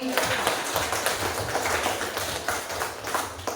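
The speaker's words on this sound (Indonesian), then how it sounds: "Beri tepuk tangan untuk kami." A classroom group applauds after a presentation, with a dense, continuous patter of clapping hands and voices mixed in beneath it.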